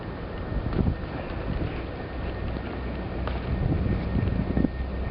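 Strong wind roars steadily against the microphone during a blizzard in New York City, a dense, continuous rush with gusty swells and no voices.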